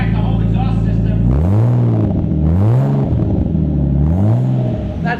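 Cold widebody Ferrari 458 with turbos and an aftermarket muffler exhaust, a loud close idle broken by three or four quick blips that rise and fall in pitch, with voices briefly over it.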